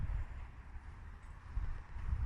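Steady wind of about 10 mph rumbles and buffets against the microphone outdoors at an air rifle range, a continuous low roar with no voices.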